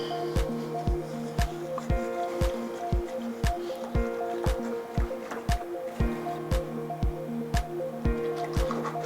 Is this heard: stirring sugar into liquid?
yes